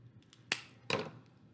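Two sharp snips of wire being cut with a hand tool, close and fairly quiet, spaced a little under half a second apart, with faint clicks around them.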